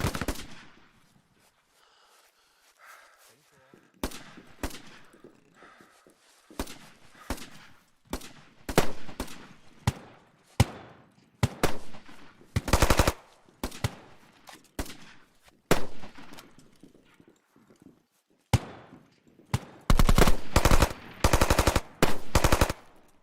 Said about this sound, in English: so let the submachine gun go first.